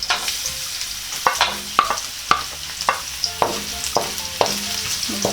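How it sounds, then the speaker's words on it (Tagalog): Garlic fries in a pan for a Cebuano nilarang dish, a soft continuous sizzle broken by regular sharp scrapes and taps of a spatula stirring against the pan. "Isunod ko pong ilagay itong ating bawang."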